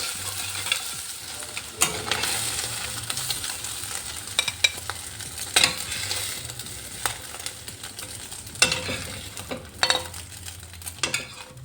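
Mixed chow mein with prawns, chicken and egg being stir-fried in a pan: a steady sizzle underneath repeated scraping and clinking of a spatula against the cookware, loud and close, with no talking.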